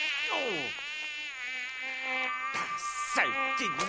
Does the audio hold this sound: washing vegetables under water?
no